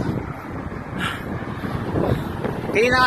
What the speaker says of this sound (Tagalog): yung hampas ng hangin